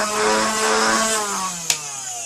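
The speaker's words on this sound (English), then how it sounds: "Does this thing rev without a mag?" A Nerf-style toy blaster's flywheels spin up with no magazine inserted, a loud close whirring whine that slowly drops in pitch, with a sharp click near the end.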